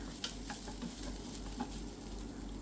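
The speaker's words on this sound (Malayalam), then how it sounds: "ഇതിനകത്തേക്ക് ഇട്ട് കൊടുത്തൊന്ന് വറുത്തെടുക്കണം" Soaked rice for chicken dum biryani frying and being stirred in a pan over low heat, a soft, steady sizzle broken by a few scraping stirs.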